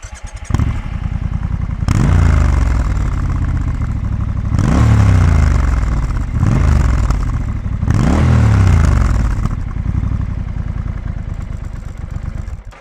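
Stock exhaust on a 2020 Triumph Scrambler 1200 XE, its engine idling loudly close by and then blipped through three sharp revs that rise and fall back, with no talk over it.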